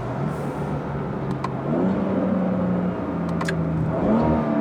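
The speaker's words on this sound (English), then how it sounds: "it seems to like blip the throttle a lot more aggressively on the downshift than before" A BMW F30 340i in Sport mode downshifting, with the engine note dropping and rising in steps as the throttle blips, heard from inside the car as a steady loud drone with no talking.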